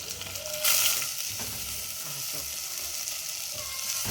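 Green chillies sizzling in hot oil in a pan for a curry, a steady close frying hiss with brief louder spatters and faint stirring scrapes.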